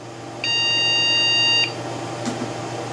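A computer motherboard failing to POST gives a single long electronic beep, clear and steady for about a second, then a faint click against a low hum.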